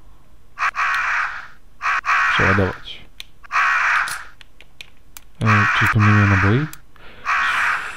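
Crows caw repeatedly in the video game Resident Evil 1.5, with harsh bursts recurring through the scene. Someone talks over them in between.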